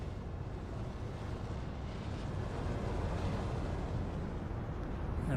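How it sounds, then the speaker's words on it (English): Big ship engines in Elite Dangerous give off a low, steady rumble heard up close, a faint, continuous broadband drone without distinct beats or voices. "Some big old engines back here."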